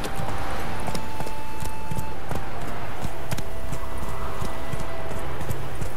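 Hooves of riders' horses clip-clop steadily in The Witcher 3, a busy rhythmic patter of several mounts close by over a low game ambience, with no talk.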